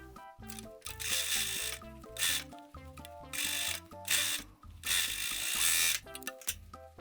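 An overlock serger stitching the seams of a bonnet-style hat, with bursts of steady mechanical whirring broken by short pauses and clicks, fairly close and without voices.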